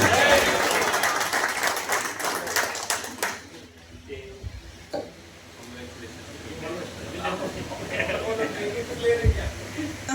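Applause from the crowd at a local BJP party meeting, a burst of many hands clapping that dies away after a few seconds, leaving scattered room noise and voices talking.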